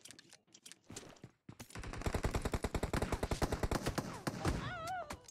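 Gunfire from an enemy in the battle royale game BGMI: after a few scattered shots, a long rapid burst of automatic fire rattles on, then ends in whistling tones.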